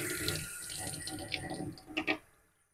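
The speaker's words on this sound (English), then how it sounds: "And then you'll go ahead and turn on your water." Water runs from a sink tap at a veterinary surgical scrub station, a steady hiss with a few splashes and clinks near the end before it cuts off.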